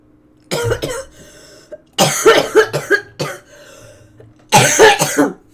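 Three bursts of harsh, close coughing, each a quick cluster of several coughs separated by short pauses.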